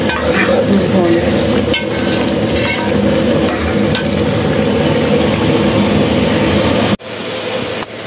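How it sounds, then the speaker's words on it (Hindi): Masala of tomato, yogurt, ginger and garlic stir-frying in a pan: a loud, continuous sizzle with repeated scraping stirs up close. It cuts off briefly near the end, then resumes. "अभी जो है मसाला मैंने भून लिया है"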